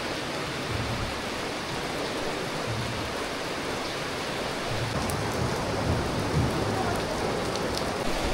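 Steady, dense rain pouring down, a constant hiss of drops on surfaces with no voices, unchanging from start to finish.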